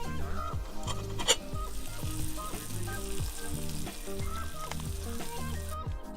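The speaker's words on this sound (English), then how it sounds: "we've got this thing sizzling up here in the mountains" Food sizzling and frying steadily on a SolSource solar cooker outdoors in the Sequoia forest mountains, a soft continuous crackle with occasional stirring clinks.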